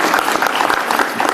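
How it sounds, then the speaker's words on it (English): At a Fair Workweek rally, a crowd claps in dense, loud rolling applause that holds steady and continuous, a thick wash of many hands with no break. "I'm just going to do a little rolling applause here."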